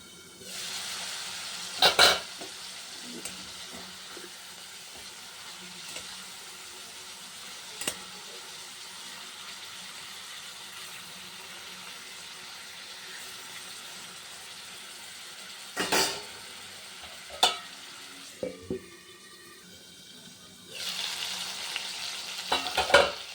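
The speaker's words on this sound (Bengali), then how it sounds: "এবার চিকেনটা দিয়েছি, এটা আস্তে আস্তে ভাজতে হবে, 10 মিনিটের মতন ভাজতে হবে।" Chicken fries slowly in a pan with a steady soft sizzle, interrupted by a few sharp clanks of a utensil stirring against the pan.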